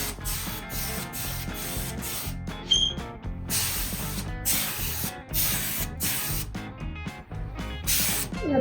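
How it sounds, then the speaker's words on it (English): Spray paint hissing from a can onto a black Camaro in repeated close, loud bursts separated by short pauses, with a few faint clicks between sprays and no talking. "We're gonna spray it."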